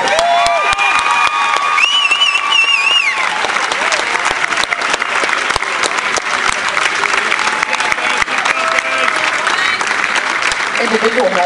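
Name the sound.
crowd applause for Lutheran South Lancers baseball team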